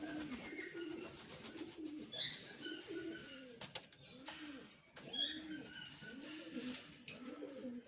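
Pigeons back in the loft after a long flight, with a male cooing at the others: repeated rolling coos in a steady pulsing rhythm, close and clear over faint background chirps.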